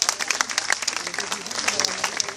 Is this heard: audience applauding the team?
yes